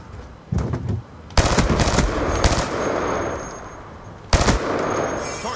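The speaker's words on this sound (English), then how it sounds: "I don't think this gun has fast enough firing, shooting, whatever you want to call it, fire rate." Automatic gunfire in Black Ops 2 multiplayer, a short burst followed by longer sustained rattling volleys, close and loud, with a brief pause before a final burst.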